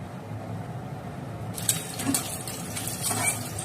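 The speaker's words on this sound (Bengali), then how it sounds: "বড়া ভাজার তেলের মধ্যে আমি আরেকটু তেল দিয়ে দিলাম" Oil pours into a pan of hot frying oil while making lentil fritters (dal bora), a soft liquid trickle and faint sizzle starting partway through over a low background hum.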